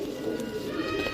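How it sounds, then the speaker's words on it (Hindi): A golden pigeon, a large paired bird, gives a soft, low cooing call that is near and steady. Faint background noise sits under the coo. "थोड़ा वड्डा कबूतर है लेकिन जोड़ियां वाला कबूतर है।"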